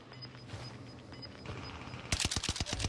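Gunfire in a Warzone Rebirth match, a rapid cluster of sharp shots bursting out near the end over a busy, noisy game background.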